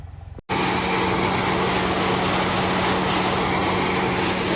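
A tractor engine runs steadily and loudly with a low, droning rumble, starting abruptly after a brief moment of quieter sound.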